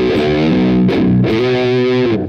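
An electric guitar on its neck pickup plays through a Matamp GT1 amp with a mid-focused distortion, loud sustained overdriven notes and chords with a brief break between phrases.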